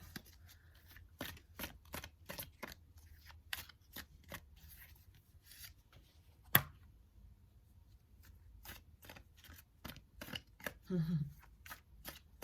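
Tarot cards shuffled in quick rhythmic riffles close up, a pause with a sharp single snap as a card is drawn, then more shuffling and faint card handling, with soft talk in the background.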